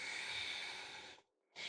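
A slow, steady inhale drawn in during a soft, buoyant Warrior 3 variation in a vinyasa yoga flow, close and breathy, running a little over a second before a brief pause and the start of the next breath.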